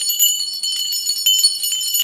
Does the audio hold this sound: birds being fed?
no